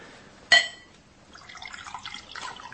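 Water goes into a glass: a sharp clink of glass opens it, followed by a quiet, bubbling trickle of liquid that runs on softly, close and alone.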